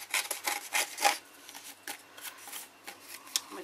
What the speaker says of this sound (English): because I've got this rough edge, I'll just rub it down a bit